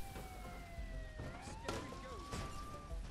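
A police siren wails in Goat Simulator 3, its pitch sliding up and down over a busy, noisy game soundscape.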